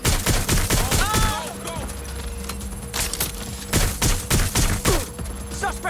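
Video game gunfire in Watch Dogs: Legion, with bursts of rapid shots and single cracks coming in clusters over several seconds, close and loud, alongside shouted voices.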